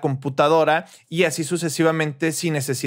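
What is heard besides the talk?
No everyday noises stand out.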